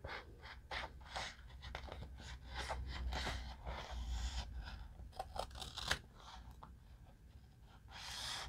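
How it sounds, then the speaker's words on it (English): Several crisp snips of scissors cutting close by, irregularly spaced, with no talking. "go ahead and get our scissors"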